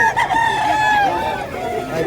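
Chickens and roosters at a poultry market in Bocaue, a rooster crowing loudly up close amid clucking fowl, with people talking in the background.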